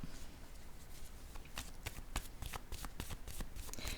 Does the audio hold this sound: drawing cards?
yes